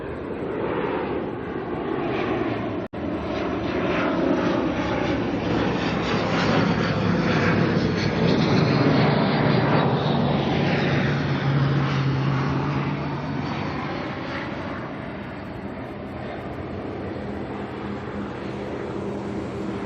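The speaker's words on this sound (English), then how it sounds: "ATR coming in now from Palmerston North." An ATR turboprop arriving at Auckland Airport from Palmerston North roars loudly and continuously, its engine drone swelling toward the middle and then easing as it passes and fades.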